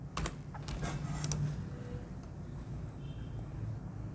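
A computer keyboard is typed on in a short burst of clicky keystrokes, with a quieter stretch of background hum and room noise following.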